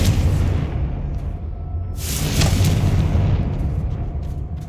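A Confringo spell explosion from Hogwarts Legacy, a single loud burst with a bright crackling flare about halfway through, rising out of a low rumbling bed and fading slowly.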